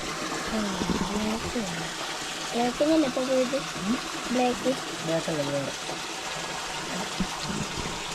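Water pours and trickles in a steady stream while a coloured powder mixture is prepared at home. The flow stays continuous and fairly close, and a voice talks over it for much of the time.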